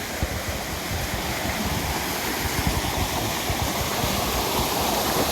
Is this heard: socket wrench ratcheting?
no